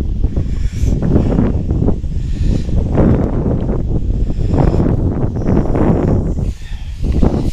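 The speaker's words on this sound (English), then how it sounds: "It's windy" Strong wind buffets the microphone in a loud, continuous low roar with gusty rustling and no voices.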